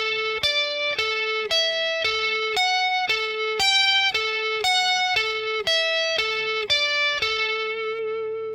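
Distorted electric guitar plays the ending of a song intro, about a dozen evenly picked single notes in a steady rhythm, the last note left ringing and fading.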